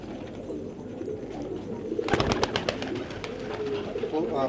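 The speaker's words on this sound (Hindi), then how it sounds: "लाल खाल कबूतर देखें माशाल्लाह" Fancy pigeons, including qasid and colored breeds, in a loft, cooing softly and repeatedly while someone talks over them close by.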